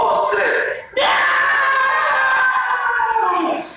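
Preschool children scream together in unison, imitating an angry cat: a loud, sustained group shriek that breaks briefly and resumes, filling the classroom.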